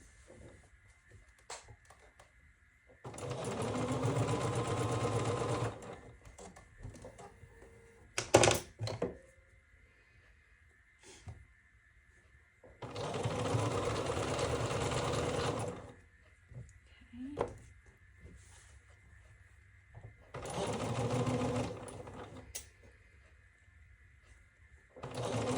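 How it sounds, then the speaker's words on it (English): A sewing machine stitches pieces of a sawtooth star quilt block together in three separate whirring runs of a few seconds each, with quiet gaps, handling thumps and occasional talk between them. "let's sew these together"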